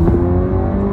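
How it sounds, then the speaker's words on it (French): Volkswagen T-Roc R with an Akrapovic exhaust, its engine note a loud, close, steady droning hum with a rising whir, heard alone for a brief moment. "Vous avez entendu le son de l'échappement à l'arrière"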